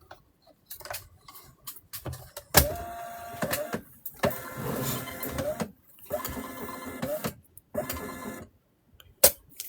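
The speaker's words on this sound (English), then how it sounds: "Okay, printing out." A small printer runs in bursts, with mechanical whirring and clicking passes separated by short pauses and a couple of sharp clacks, close and moderately loud, with no talking.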